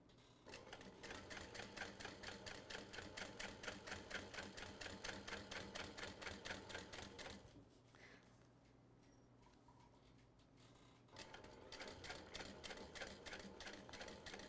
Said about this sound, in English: go ahead and continue stitching down perfectly normally with that top stitch length